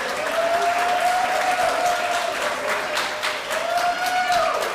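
A crowd at an employee awards evening applauds and cheers loudly and steadily, with bright whoops rising over the sustained clapping.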